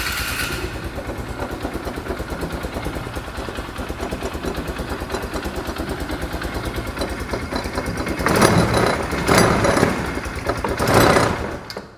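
A side-by-side UTV engine with a suspected water problem runs steadily with a rough, clattering idle, then revs louder in bursts near the end before cutting off.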